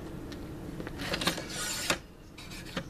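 Legs of a Renogy 100 watt solar panel being folded out, giving a few close mechanical clicks, creaks and scraping rattles with a louder snap near the middle and another near the end.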